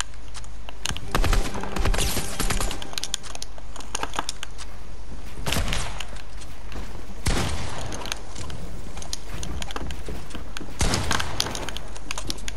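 Sniper rifle gunfire in a shooter video game, loud sharp cracks at intervals over a constant dense game din, with keyboard-like clatter in the background.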